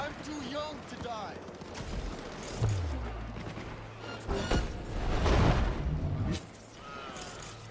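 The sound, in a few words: gunfire in video game Cyberpunk 2077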